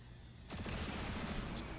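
Gunfire in the tactical video game Chimera Squad: a sudden loud burst of rapid shots, a fusillade that keeps rattling for more than a second, close and dense, with no voices.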